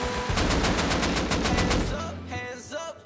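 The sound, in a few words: gunfire in the video game Rust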